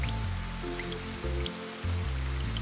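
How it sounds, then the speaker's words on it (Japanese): Rain falling in the Secret Staycation video game, steady patter of drops with a low droning background tone that cuts out briefly midway, no speech. "それにしても雨が降っていますね。"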